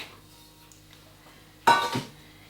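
Raw steak dropped into a slow cooker set to warm gives one short clattering thud with a faint ceramic clink, near and brief after near-silence.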